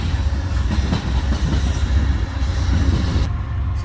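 An Amtrak train rolls past near the Mississippi, a loud continuous rumble with rhythmic clickety-clack from the wheels over the rails throughout.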